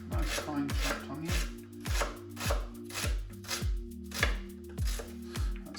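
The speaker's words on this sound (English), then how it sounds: "Finely chop your onion, just as if you would do a shallot." A knife finely chops onion on a board in a brisk, even rhythm of about ten crisp close thuds, each with a short scraping tail, and no voices.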